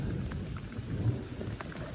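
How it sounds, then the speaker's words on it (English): Steady rain falls in a wilderness with a low rumble of rolling thunder underneath, a continuous dense wash of sound with occasional louder drops, no voices. "got some thunder and lightning rolling in"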